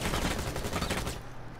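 Rapid gunfire from the video game Rainbow Six Siege, a dense, continuous burst of automatic shots that runs loud and steady before dropping away near the end.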